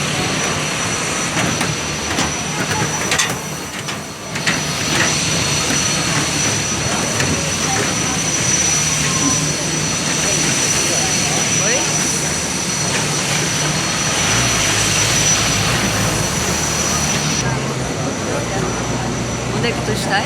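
Steady, loud jet engine roar fills an airliner cabin on arrival in Lisbon, a dense broadband hum that holds throughout with a slight dip early on.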